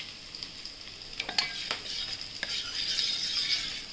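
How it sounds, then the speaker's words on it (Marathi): Red chili powder, turmeric and coriander sizzling in hot oil in a pan while a spoon stirs and clinks against the metal, frying steady throughout. "छान हलवून घेऊया।"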